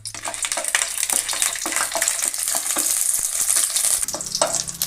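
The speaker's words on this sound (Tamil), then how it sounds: "சிவப்பு மிளகாய் போட்டு வதக்கி எடுத்து வச்சுருவோம்" Hot oil sizzles steadily as red chillies fry, with occasional stirring scrapes and crackles close by, no voices.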